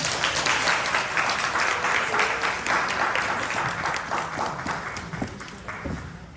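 A graduation audience gives a sustained round of applause, dense overlapping claps holding at an even level throughout.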